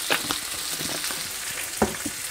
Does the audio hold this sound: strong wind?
no